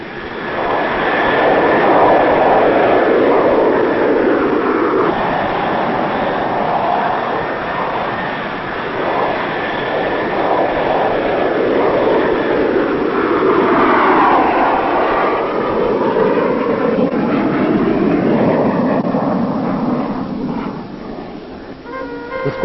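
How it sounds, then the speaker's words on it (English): An RAF McDonnell Douglas Phantom jet fighter on a night flight gives off a sustained, loud, rushing engine roar that swells and fades in slow waves, holding a faint steady whine and dropping off slightly at the end. "when the Phantom hurtles into the darkness at supersonic speeds."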